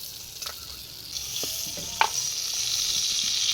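Okra sizzles steadily in hot oil, a soft continuous frying hiss with a few light clinks and stirring taps over it, close and fairly quiet.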